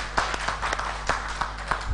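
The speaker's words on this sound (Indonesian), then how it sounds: "Tepuk tangan dulu." Scattered hand clapping from a small audience at a community gathering of keris enthusiasts in Semarang Regency: a loose, uneven run of claps that lasts about two seconds, with faint background murmur.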